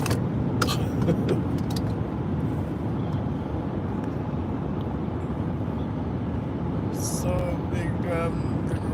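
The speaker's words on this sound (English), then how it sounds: "Watch this car coming up behind us here." Car approaching from behind on a road, heard from inside a moving vehicle as a steady broadband road rumble with a faint voice over it.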